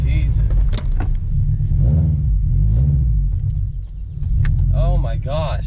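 A Subaru BRZ pulls away while the driver rides the clutch. A low, steady engine rumble runs throughout, under people talking in the car.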